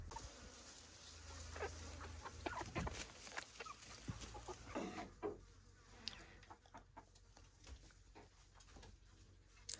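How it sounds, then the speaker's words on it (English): Homestead chickens cluck intermittently at close range as the flock comes in, with scattered short calls and rustling over a quiet outdoor background of insects buzzing. "So all of the chickens are coming in right now"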